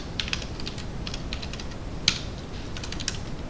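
Keys typed on a computer keyboard while entering code, a quiet run of light, scattered clicks with one sharper keystroke near the middle, close and alone with no talk.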